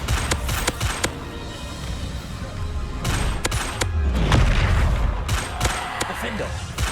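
Bombarda spell blasts burst repeatedly in Hogwarts Legacy, a string of loud booming explosions over continuous game noise and a voice casting spells.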